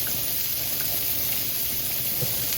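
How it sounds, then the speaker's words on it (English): Food sautés on a hot griddle for filet mignon, giving a soft, even hiss and faint sizzle with a thin high whine steady throughout and no talking. "I'm just going to give these a nice saute right on the griddle"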